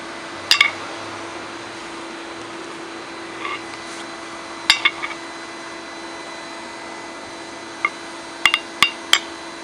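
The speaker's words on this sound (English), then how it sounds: "we're just going to turn it 180 degrees and hammer it like that, and that'll round it out." Hammer strikes on hot steel while a leaf is forged, with the piece turned between blows. The strikes come as a few sharp, ringing metallic hits in small irregular clusters, spaced apart over a steady background hum, with no talking.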